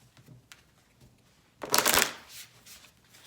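Tarot cards being shuffled, a dense riffling burst that builds after a quiet start, peaks near the middle and then trails off into lighter card sounds, close and alone with no talking.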